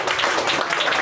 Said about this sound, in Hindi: जोरदार ताली मार कर स्वागत करेंगे हमारे ऋतिक कुमार का